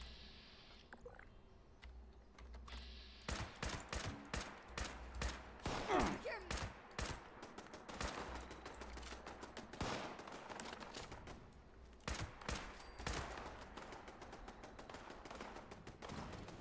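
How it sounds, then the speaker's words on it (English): Gunfire in the post-apocalyptic video game Fallout 76, with repeated sharp shots and rapid bursts cracking at moderate volume over a crackling burning backdrop, more intense in the middle and later stretches. "Somebody else is shooting it out over there, and they've set the place on fire."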